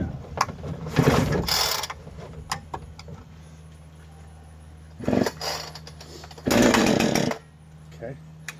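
A new Husqvarna 460 Rancher chainsaw engine sputters to life in short loud bursts of revving between quieter idle stretches, with some talking in between.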